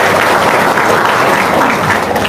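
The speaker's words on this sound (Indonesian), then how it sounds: "Wow, tepuk tangan dong." An audience breaks into loud, dense applause, a continuous close roar of many hands clapping at once that holds steady without pause.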